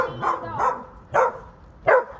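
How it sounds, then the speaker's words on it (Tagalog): A dog barks four times close by, short sharp woofs spaced unevenly, the last two louder and more forceful. "Ano tinatawalan ng aso ko?"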